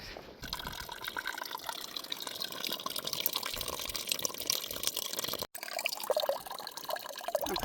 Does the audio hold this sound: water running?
yes